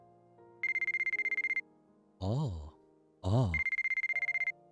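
An incoming-call ringtone in a visual novel game plays as a rapid pulsing electronic trill in two bursts, separated by swelling musical chimes; a voice gives a brief exclamation.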